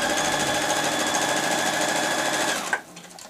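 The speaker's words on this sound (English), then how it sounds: "I'm just going to sew with a long stitch the lining to the top" Sewing machine running steadily on a long tacking stitch through lining fabric on a tablet case, a fast, even whirring hum that stops abruptly near the end.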